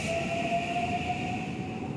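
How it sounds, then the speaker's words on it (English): A train passing on an elevated railroad track overhead in Osaka, a steady rumble with a sustained squealing and humming tone, heard from the street beneath the tracks with no talk. "Train above."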